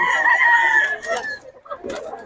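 A rooster at a Bocaue market gives a single strained crow, loud and close, that trails off into clucking and background voices of people talking nearby.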